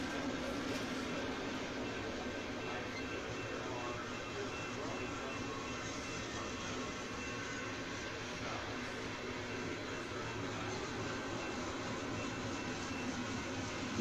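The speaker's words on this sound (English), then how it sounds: "this feels a lot like a train that's headed for the BRC" A freight train with Union Pacific, Conrail and Norfolk Southern boxcars rolls past in a continuous, even rumble with faint wheel noise, steady throughout.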